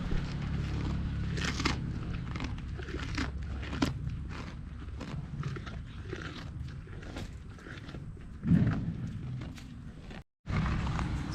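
Farm animals at a Kenyan village farm chew napier grass close by, giving steady crunching, biting and rustling with occasional creaks, and a brief louder crunch near the end.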